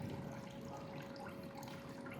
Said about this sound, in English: and let the water drip.